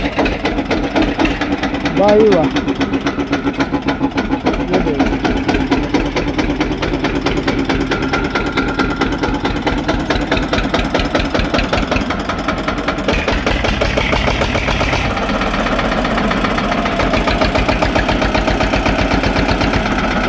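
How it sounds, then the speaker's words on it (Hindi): An Eicher 242 tractor engine idles with a steady, rapid diesel chug throughout, loud and close, while someone speaks briefly over it. "ट्रैक्टर को स्टार्ट करके इसकी आवाज़ भी सुनवाएंगे"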